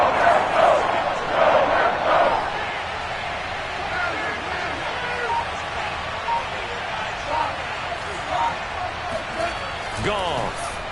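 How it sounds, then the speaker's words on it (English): A stadium crowd at an American football game featuring the Detroit Lions roars as a broad, sustained wash of noise. The swell is louder at first, then settles into a steady din beneath a commentator's voice. "The crowd getting into it as we come up on a big 3rd down."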